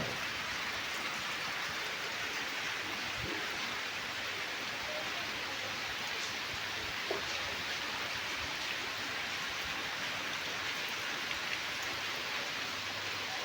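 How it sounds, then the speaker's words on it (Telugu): Steady rain pours down in a dense, even hiss, with occasional louder drops striking a surface nearby; no voices. "చూడండి ఒకసారి వర్షం అయితే"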